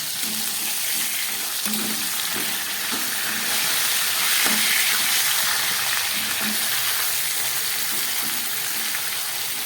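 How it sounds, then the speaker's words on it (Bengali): Two rohu fish heads coated in salt and turmeric fry in oil with a constant, close crackling sizzle, punctuated by scattered taps and scrapes of a spatula against the pan. "এই মাথা দুটোকে ভালো করে ভেজে নিচ্ছি"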